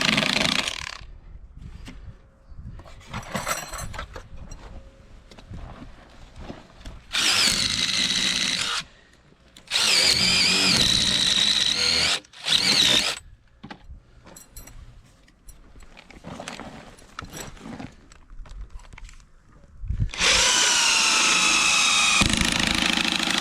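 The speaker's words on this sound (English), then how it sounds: "10-inch screws. These are 9 inches thick, so I'm going to countersink them a couple inches." A power drill drives 10-inch screws into 9-inch-thick wooden beams in several loud bursts of a few seconds each, separated by quieter gaps.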